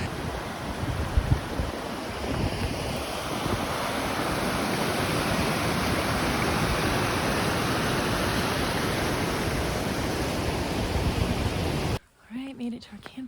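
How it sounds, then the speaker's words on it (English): Steady, loud roar of a waterfall in Iceland on a cold, rainy October day, continuous broadband rushing water filling the scene for about twelve seconds before it cuts away to a brief quieter moment with a voice. "You hear the waterfall?"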